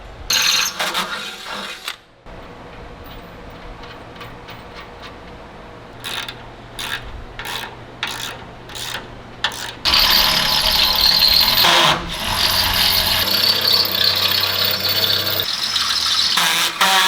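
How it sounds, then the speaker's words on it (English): A power drill whines loudly and continuously, boring into a Ford Econoline van's metal frame for a steering stabilizer bracket, with brief pauses and ratcheting clicks between stretches of high-pitched grinding. "I'll go ahead and drill my next hole."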